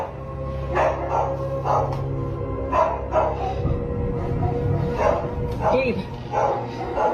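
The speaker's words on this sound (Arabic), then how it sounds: "عندهم كلب كده عمال يهوهو بشكل رهيب" A dog barks loudly and repeatedly in a home with a basement, sharp bursts recurring every second or so, with a person talking over and between them.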